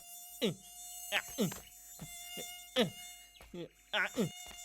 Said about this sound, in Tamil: இந்த கொசு தொல்லை தாங்கல. தள்ளி போ, என்கிட்ட வராத.